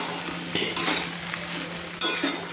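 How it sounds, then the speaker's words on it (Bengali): Pasta tossed with egg bhujia and chopped coriander in a pan over low flame, a soft sizzle broken by a couple of sharp utensil scrapes and stirs. "ডিমের ভুজিয়া আর ধনেপাতা কুচি দিয়ে আমি নেড়ে নিচ্ছি"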